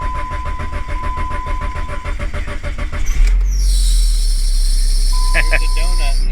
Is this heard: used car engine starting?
yes